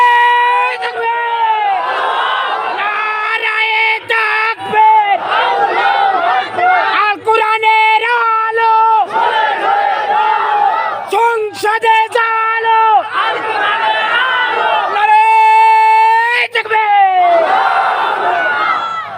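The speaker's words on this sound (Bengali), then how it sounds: "একজন জোরে তাকবীর দেন, একেবারে বীর শ্রেষ্ঠের মতো একটা তাকবীর।" A large crowd at an outdoor Islamic sermon shouts a takbir chant, with loud, drawn-out group cries rising and falling in repeated bursts and brief gaps between them.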